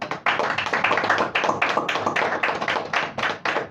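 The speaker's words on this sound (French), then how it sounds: "Faut l'applaudir très fort." Loud, brisk clapping from a small group in a radio studio, dense and close, with quick uneven bursts running continuously for a few seconds.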